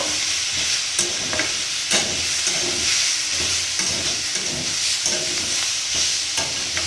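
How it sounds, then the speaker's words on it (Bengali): Potatoes fry in a little oil with panch phoron in a pan, a dense close sizzle broken by repeated rhythmic scrapes and stirring strokes of a spatula, heard alone without voices. "আমি আলুর মধ্যে দিয়ে দিয়েছি, এবার ভালো করে এটাকে ভাজতে হবে"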